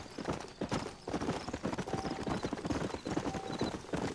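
Steady clip-clop of horse hooves at a brisk, even pace in the video game Red Dead Redemption, with faint electronic game tones now and then; no voices.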